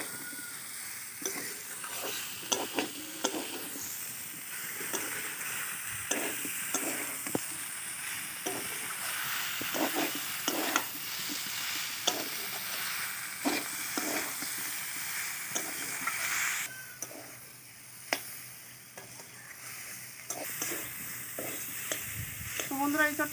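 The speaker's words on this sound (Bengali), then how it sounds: "ইঁচড়টাকে মশলার সঙ্গে ভালো করে কষিয়ে নেব।" Jackfruit and potato stir-fried with spice paste in a pan, making a steady close sizzle with repeated scraping stirs of a spoon, continuous and fairly loud with no talking.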